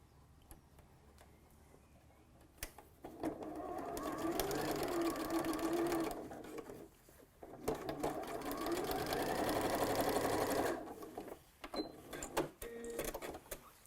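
Sewing machine stitching the facings of a scrubs jacket, with two sustained runs of steady motor whir and needle chatter separated by a short pause, close and fairly loud, then quieter handling afterward.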